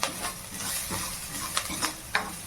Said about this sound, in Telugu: బాగా ఇలా కలపండి